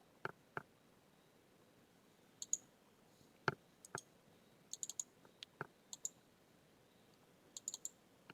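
Computer mouse buttons clicking near the microphone, sharp dry clicks, some in quick double pairs and some single, spread across an otherwise quiet stretch.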